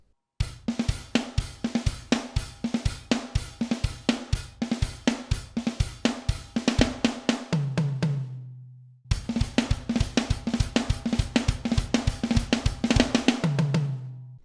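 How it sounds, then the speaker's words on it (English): Drum kit fill, fast dense hits on snare and toms with steady low kick pulses, played twice with a brief gap, loud and close with no voices. "there's a fill at the end that sounds like this"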